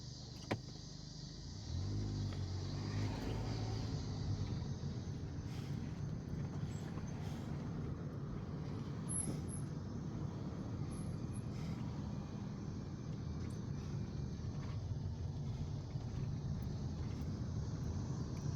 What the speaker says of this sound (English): Got a car coming.